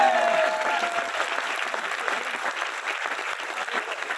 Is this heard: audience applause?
yes